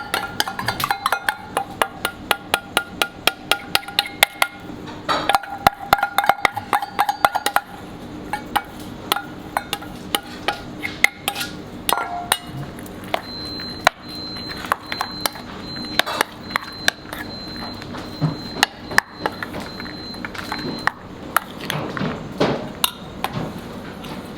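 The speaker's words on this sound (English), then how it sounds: "So here we have the beetroot, so we will whisk it with the syrup." In a two-star restaurant kitchen, beetroot is whisked with syrup in a bowl. Quick, regular ticking strokes at first give way to scattered clinks and knocks of utensils against the bowl, with no talking.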